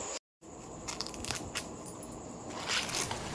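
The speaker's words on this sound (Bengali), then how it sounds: "তো ভুট্টাটাকে আমি ভালো করে ছাড়িয়ে নিচ্ছি" Husk is pulled off a corn cob in crisp, close tearing and crunching rustles after a brief silence, with a few sharper rips; no talking.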